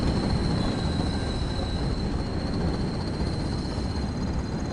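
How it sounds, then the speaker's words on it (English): In Train Sim World 5, a train starts moving, giving a dense steady rumble and broadband roar with a faint high whine above, continuous and loud without any talk. "Just gonna try and get the train moving now."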